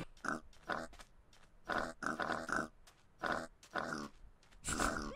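Minecraft pig grunting as it walks, with a run of short snorting grunts in uneven bursts, close and clear, and no talk over it.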